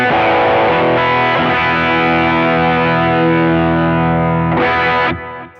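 A single electric guitar chord through a Tube Screamer-style 808 overdrive pedal rings out loud and long, slowly decaying, then a short second strum cuts off abruptly.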